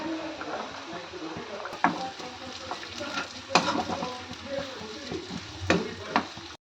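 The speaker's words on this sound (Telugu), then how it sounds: "గార్లిక్ కొంచెం వేగినాయి, కరివేపాకు వేసుకుని ఫ్రై చేసుకుందాం" Garlic and curry leaves fry in a pan for garlic fried rice, giving a steady close sizzle with irregular scraping stir strokes and occasional sharper clicks of the spatula against the pan.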